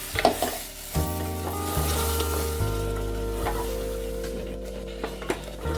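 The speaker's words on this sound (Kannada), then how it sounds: "ಇವಾಗ ರುಬ್ಬಿರೋ ಅಂಥ ಪೇಸ್ಟ್ ಹಾಕ್ತೀನಿ" Ground masala paste sizzles in oil in a pan for a stuffed eggplant curry, giving a steady close frying hiss with a few clinks and stirring sounds at the start.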